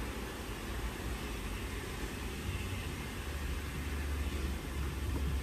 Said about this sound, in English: And then I got a vacuum.